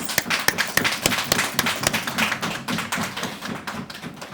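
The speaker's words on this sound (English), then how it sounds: "Give yourselves a round of applause" A small group at a government announcement gives itself a round of applause, with sparse, distinct claps in an uneven rhythm, loud and close, for about four seconds.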